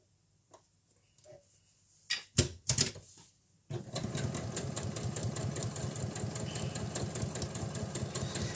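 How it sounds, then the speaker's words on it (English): A sewing machine top stitching a fabric face mask starts after a few handling clicks and bumps, then runs in a fast, steady mechanical rattle, close and continuous. "You're just going to quickly top stitch 1/8 of an inch away from where that seam is on both sides."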